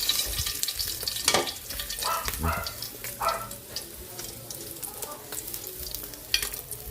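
Dried milkfish (daing na bangus) frying in a pan, with a continuous crackling sizzle and intermittent stirring and scraping sounds, close up; a dog barks faintly in the background.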